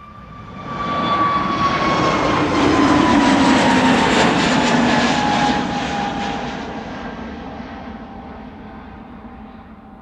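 A KLM Airbus A321neo jet at Amsterdam Schiphol Airport passes close by, its roar swelling quickly, holding loud for several seconds, then fading away with a steadily falling engine whine.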